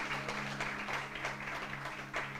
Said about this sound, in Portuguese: Vamos aplaudir ao Senhor pela vida da Jéssica.